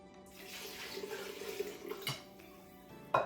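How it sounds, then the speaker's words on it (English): Three cups of water poured into a bowl of pizza dough ingredients already holding olive oil: a steady, soft splashing stream runs through most of the clip, ending with a brighter splash near the end. "So this is just 3 cups of water."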